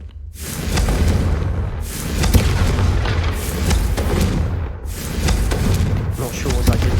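Confringo spell blasts in Hogwarts Legacy: loud, deep, rolling booms that repeat every second or so over a continuous rumble, with game voices talking over them.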